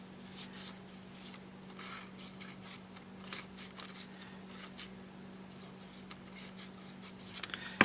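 Scissors snip through paper in repeated short cuts, close and fairly quiet, over a faint steady hum.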